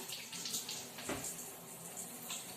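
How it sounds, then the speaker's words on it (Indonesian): Water runs steadily from a tap as hands are wetted for washing, a continuous hissing splash at moderate distance with slight fluctuations and no voices. "Cucilah tangan dengan prinsip air mengalir. Basahi telapak tangan"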